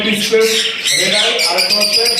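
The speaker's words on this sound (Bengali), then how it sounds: "এখানে তিনটা পাখি আছে তিনটে রানী পাখি তিনটে ছেলে পাখি" Pet birds kept for sale, three females and three males, squawk and chirp loudly and close by in rapid overlapping calls, with a person talking over them.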